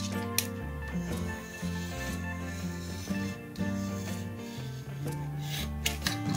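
A utility knife cuts through material with repeated close rasping, scraping strokes, uneven in rhythm, over a faint steady background tone.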